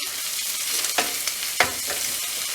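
Pork chops fry in a pan with a continuous broadband sizzle, broken by a few soft clicks and pops from the pan.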